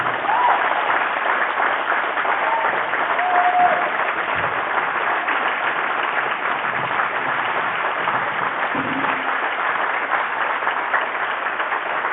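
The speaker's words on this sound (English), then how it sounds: "Let's all give him a round of applause" Sustained applause from an audience at an athletic awards night, dense and loud clapping that fills the room without a break for about twelve seconds, with a few voices mixed in.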